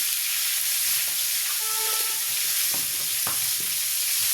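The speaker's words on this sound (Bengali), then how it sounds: "পটলটা ভেজে ফিরে আসছি।" Pointed gourd (potol) fries in hot oil with salt and turmeric, giving a steady close sizzle and hiss with a few soft scraping stirs.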